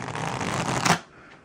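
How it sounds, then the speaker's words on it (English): A plastic deck of playing cards is rifle shuffled close up, giving a quick rising burr of flicking cards for about a second before a soft settling tap. "rifle shuffling plastic decks is"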